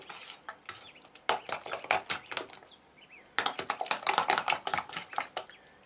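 A spoon stirs minced cottage cheese into a paste in a bowl for waffle batter, giving a busy, scraping and clicking rhythm of quick strokes, close and fairly loud, pausing briefly midway.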